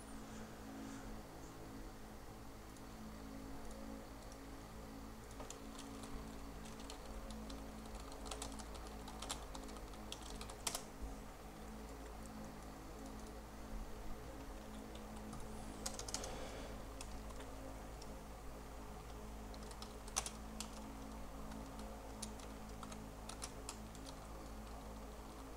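Steady keyboard typing on a computer keyboard, a continuous run of light clicking keystrokes over a low steady hum, with a few slightly sharper clacks, no voices.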